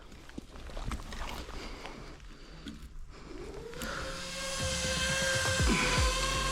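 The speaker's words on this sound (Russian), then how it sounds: "Все, дрон полетів." Motors of an FPV kamikaze drone spin up at takeoff near Bakhmut, a rising high-pitched whine after some scattered handling noises, swelling louder and steady toward the end, close by.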